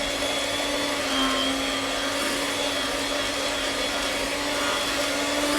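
Electric hand mixer whirring steadily as it beats room-temperature cream cheese and butter together for icing, a continuous close, loud motor drone with no talking.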